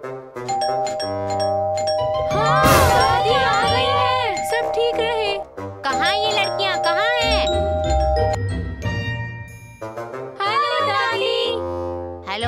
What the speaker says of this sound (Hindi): चलो घंटी बजाती हूँ।